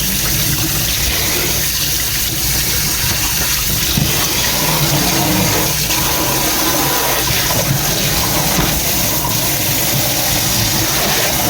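Tap water runs steadily and loudly over vegetables being washed in a home kitchen, a constant close splashing rush with no talking.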